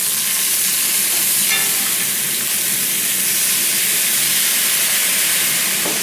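Vegetables stir-frying in olive oil in a wok on very high heat, a loud steady sizzle and hiss with occasional stirring scrapes, close and continuous.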